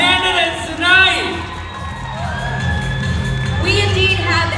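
Pageant audience in a Cebu City hotel cheering and shouting during the finals, with loud high-pitched screams and whoops rising over a steady crowd roar and a background of music.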